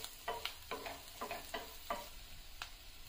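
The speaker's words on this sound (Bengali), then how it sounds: "নাড়াচাড়া করে নিচ্ছি।" Finely chopped peas, capsicum, carrot and beans are stirred in a sizzling pan, producing five or six rhythmic scrapes over a soft frying hiss, close up and with no talk.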